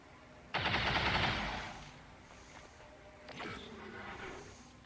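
Gunfire in XCOM 2: War of the Chosen, a loud close rapid burst lasting about a second that trails off, then a second, fainter volley a few seconds later.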